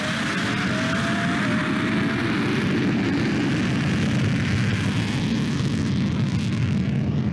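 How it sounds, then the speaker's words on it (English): A loud, sustained jet engine roar as a Eurofighter Typhoon accelerates down a runway, broad and rushing, with a faint rising whine early on that fades as the noise continues. "The jet accelerated down the runway."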